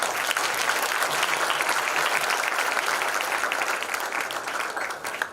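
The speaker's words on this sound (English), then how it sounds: "give them a big round of applause." Audience at a school of pharmacy induction program gives a big, sustained round of applause, dense and loud throughout before tapering slightly at the end.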